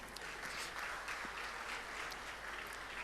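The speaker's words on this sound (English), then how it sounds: "Let's give Asafo a round of applause." Sustained audience applause at an agricultural and technology exhibition show, a steady dense clapping from a crowd that carries on at even loudness for the whole stretch with no talk.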